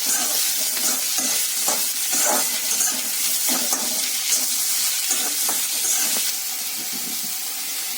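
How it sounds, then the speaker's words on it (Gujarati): Chopped onions sauté in a pan with a steady, dense sizzle, while a spatula scrapes and stirs in repeated soft strokes close by, with no talking. "અહીં તમે જોઈ શકો છો કે કાંદા સારી રીતે સંકળાઈ રહ્યા છે"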